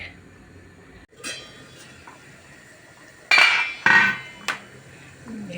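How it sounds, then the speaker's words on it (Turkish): Spinach roots being chopped on a cutting board with a knife: a handful of sharp, irregular strikes close by, with quiet gaps between them. "Ispanak köklerimi şöyle ufak ufak doğrayacağım."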